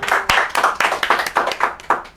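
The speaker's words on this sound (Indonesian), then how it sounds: "Tepuk tangan buat kita berdua" Two people clap their hands, a close series of about ten sharp claps in a quick, slightly uneven rhythm, each one crisp and loud with brief decays between.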